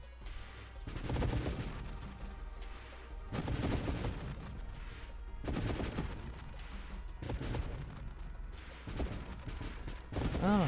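Rapid, continuous ship weapon fire from the Nova Drift space shooter, a dense barrage of blasts and booms that stays loud throughout, with bursts swelling and dipping.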